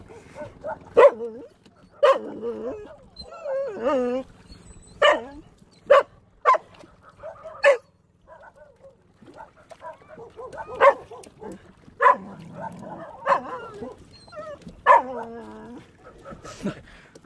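Several dogs bark in short, spaced yaps and yips, with whimpering between the barks, close and fairly loud against a quiet background.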